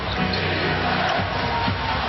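A capacity crowd at an NBA Finals basketball game chants and roars for defense, a dense, continuous, loud wall of voices filling the arena without a break.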